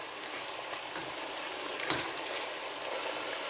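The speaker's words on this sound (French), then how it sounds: "Je mélange bien le tout." A fish and rice stew mixture with seasoning, chicken stock cube and passe-partout sizzles steadily in a pot while being stirred, a soft bump of the spoon midway, faint and continuous.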